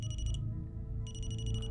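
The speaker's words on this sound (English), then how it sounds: "you let it beep. You did communicate through the REM-POD" A REM-POD ghost-hunting device at a cemetery emits steady repeating electronic beeps that pause briefly and resume, over a constant low hum.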